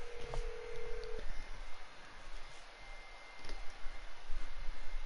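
A phone being dialed on a home stream, a short steady keypad tone early on followed by faint clicks and ticking over low background hiss, with no talk.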